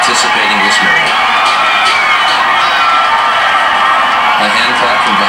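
A huge outdoor crowd of hundreds of thousands cheers and whoops in a dense, loud, sustained roar, with scattered yells rising above the wash of voices.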